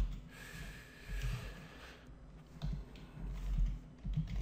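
Light tapping on a computer keyboard while entering form details into a PHP database page, soft irregular clicks in short bursts over a low background hum, with no talking.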